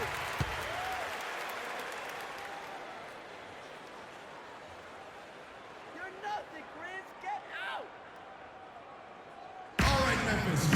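Arena crowd applause in the NBA 2K16 basketball game during a Memphis Grizzlies home game, a steady broad roar of clapping and crowd noise throughout, with brief whistles and calls over it and a sharp louder burst near the end.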